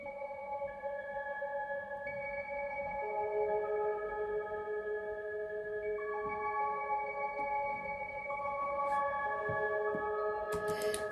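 A soft, sustained synth pad holds long overlapping tones that shift slowly between chords, steady and fairly quiet with no other sounds.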